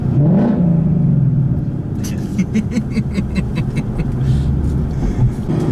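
A 2015 Mustang GT engine rumbles close by, then revs in a quick series of throaty pulses while the car keeps rolling.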